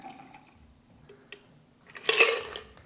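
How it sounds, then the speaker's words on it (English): A Classic Zombie cocktail is poured from a shaker into a tall glass, with a short bright splash of liquid and clinking near the end after some quiet light handling sounds. "take a tall glass like this one and pour your cocktail."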